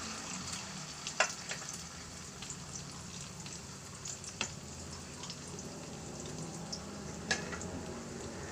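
Beaten-egg omelette (torta) with no flour sizzling steadily in a pan, a continuous close crackle broken by a few sharper pops, with no talking.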